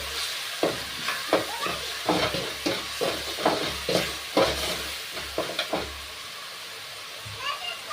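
Onions fry in oil with turmeric for a fish curry, a soft sizzle broken by a regular rhythm of spatula scrapes and stirring strokes against the pan.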